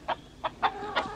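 Chickens cluck in a short burst of four sharp calls with a little murmuring between them, close and fairly clear, with no talk.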